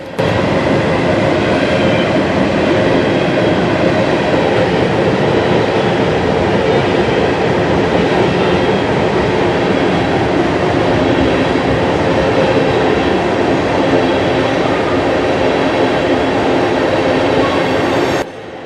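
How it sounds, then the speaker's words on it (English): CP 7023 freight train, with flat cars and open steel coil cars, rumbles steadily across a bridge, its wheels grinding and clattering loudly and continuously at close range. "As the train continued to cross the bridge"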